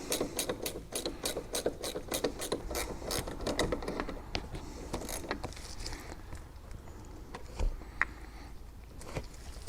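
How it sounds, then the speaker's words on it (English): A ratcheting wrench loosens a nut on a battery bolt, with a quick series of sharp clicks at first, then slower scattered clicks and metallic scraping up close. "So make sure you use a ratcheting wrench."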